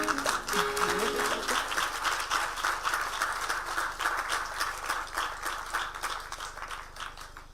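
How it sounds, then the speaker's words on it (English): Applause at a groundbreaking ceremony for the United Nations expansion project in Gigiri, Nairobi: a crowd claps steadily and loudly for several seconds and then fades slightly. "Another round of applause."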